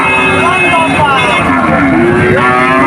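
Cattle low and moo loudly and close by at a busy rural cattle market, with overlapping calls from several animals under steady crowd noise.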